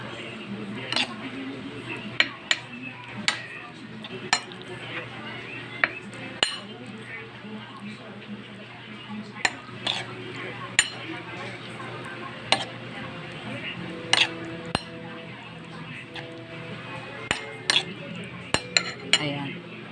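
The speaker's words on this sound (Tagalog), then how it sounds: "Halo lang natin yung itlog sa giniling." Egg being stirred into ground meat in a bowl, a spoon clinking repeatedly against the bowl's rim in an uneven rhythm, close and fairly loud, with someone talking in between.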